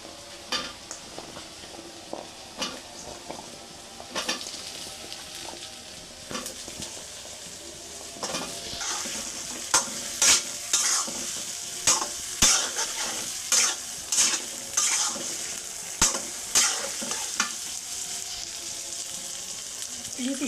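Olives with turmeric powder and salt being stirred in a pan for pickle, a continuous soft sizzle broken by repeated sharp spoon knocks and scrapes against the metal, close and rhythmic, growing busier midway.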